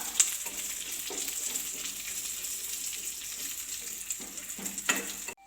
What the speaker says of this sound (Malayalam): മുന്തിരിങ്ങയും അണ്ടിപ്പരിപ്പും കൂടെ ഇട്ട് കൊടുക്കാം നന്നായിട്ട് നമുക്ക് വറുത്തെടുക്കാം